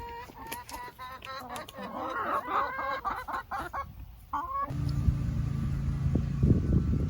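Chickens clucking nearby in an outdoor yard, with a sudden shift partway through to a louder low rumble like passing traffic.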